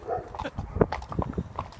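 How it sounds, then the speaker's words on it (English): A dog barks a few times near sheep, amid scattered clopping and rustling outdoor noise, moderately close with no talking. "And there's dog barking as well."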